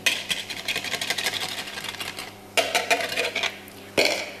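Wet ingredients for savory feta, plum and arugula muffins go into a mixing bowl of dry mix. Close clinks and scrapes of a utensil against the bowl come in uneven bursts, with sharper knocks near the middle and the end.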